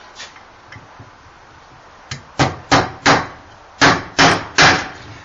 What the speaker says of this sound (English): I'm going to take 4 nails and pound them into the block of wood